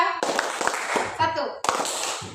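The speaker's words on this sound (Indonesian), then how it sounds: "Tepuk 3 kali. Tepuk 2 kali." A group of schoolchildren claps hands in a counted classroom rhythm during a lesson, the sharp claps arriving in short bursts under the voice of a teacher calling out the counts.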